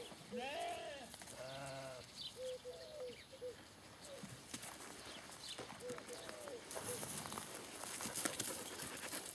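Two just-weaned young buck goats on a farm bleat several times in short wavering calls, fairly close over a noisy outdoor background with rustling and patter, and a voice speaking briefly among them.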